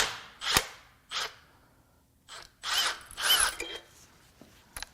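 A power tool unbolts bolts on a 2019 GMC Sierra 5.3L L84 V8 engine in about six short, sharp bursts separated by quiet gaps, heard up close.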